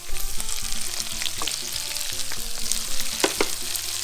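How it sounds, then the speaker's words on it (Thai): Garlic, carrot and onion stir-fry with rice and shrimp in a hot pan, giving a loud, close sizzle broken by scraping stirs, with music playing underneath. "เราจะผัดกระเทียมแครอทหอมหัวใหญ่"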